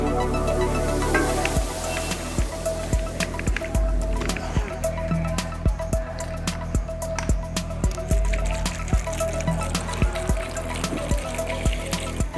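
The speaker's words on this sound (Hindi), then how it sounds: "इसके अंदर हमने थोड़ा सा पानी ऐड किया है" Water splashes and gurgles into a pot of sautéed potato and eggplant curry, a continuous pour with rhythmic knocking clatter, close and fairly loud.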